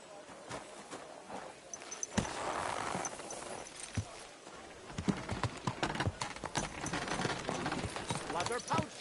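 Horse hooves clip-clop at an uneven pace through a busy market street, close and crisp, with people talking over the steps.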